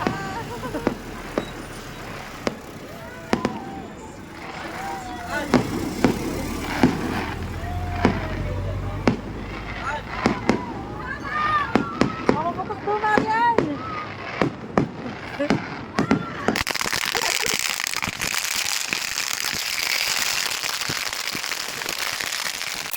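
Fireworks bursting over a river on Chinese New Year, a dense run of sharp cracks and booms, some near and loud, with voices chattering underneath and a steadier rumbling crackle toward the end.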